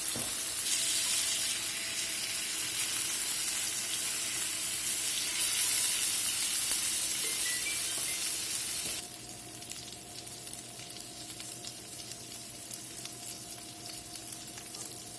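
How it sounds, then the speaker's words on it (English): Salmon sears in a hot pan, giving a steady, loud sizzle with a frying hiss throughout. At the midpoint it softens slightly to a quieter but continuous crackle. No voices are present. "We're going to let that sear there just a few minutes on that side"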